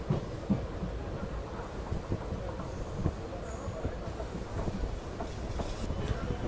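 A general-class passenger train pulls out of a small station on a rural Uttar Pradesh line, a low rumbling rattle with soft wheel clatter, fairly quiet and continuous, with faint voices in the background.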